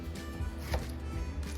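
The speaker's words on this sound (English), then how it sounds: "I'm gonna just chop this up here." Tomatoes are chopped with a knife for chicken birria, a few soft, dull knife taps on a cutting board heard close and quiet over a low background hum.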